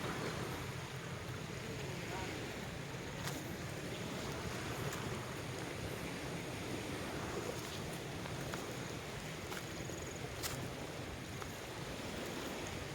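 Waves wash steadily onto an empty beach with constant broadband surf and wind noise, close and continuous for the whole stretch, with no break in the rush.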